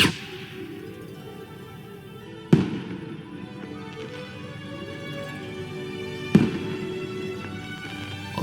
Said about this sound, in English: and lit the firework.